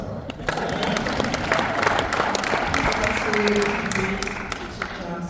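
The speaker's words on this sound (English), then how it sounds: "You can applaud, that's all right." Audience applause at a public meeting, steady dense clapping with crowd noise and a few voices mixed in, lasting throughout at moderate loudness.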